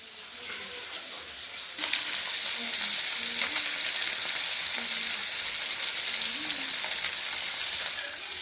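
Fish frying in a pan gives a steady, loud sizzle and crackle that jumps up sharply after a quieter start and then holds evenly to the end, with no talk.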